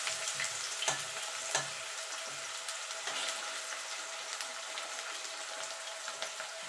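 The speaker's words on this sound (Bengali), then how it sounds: "আলুটা একটুখানি ভাজা ভাজা করে নেব।" Potatoes frying in a pan for a Bengali drumstick recipe give a steady, close sizzle and crackle, with occasional sharper pops and stirring noises throughout, and no voices.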